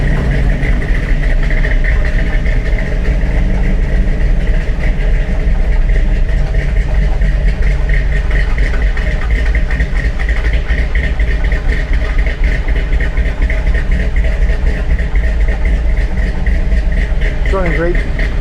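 A 1962 Chevrolet C10 truck with a fuel-injected engine idles steadily in a closed garage, a constant low rumble with a faint mechanical whine that runs unbroken throughout.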